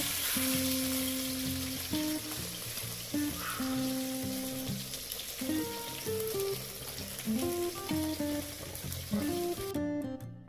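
Pieces of oxtail sizzle in a hot pan, a steady crackling fry layered with clinks and scrapes of utensils and pots, close and moderately loud with no voices.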